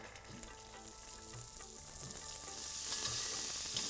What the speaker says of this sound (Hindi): ये मेथी और मटर की हो गई भुनाई